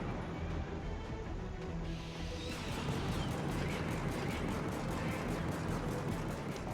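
In the Helldivers video game, a vehicle's chain gun and cannons fire a rapid, regular stream of bursts over a dense, continuous rumble of battle noise.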